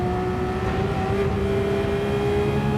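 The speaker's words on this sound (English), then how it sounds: "Watch the downshifts." Racing car engine in Gran Turismo 7 running steadily at high revs, a loud continuous whine and drone with slight pitch shifts as it downshifts, heard alone.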